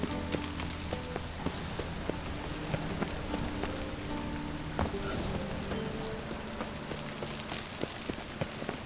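Rain falls steadily in The Witcher 3, a continuous hiss of drops striking surfaces with scattered sharper splashes throughout, even and moderately quiet, with no voices.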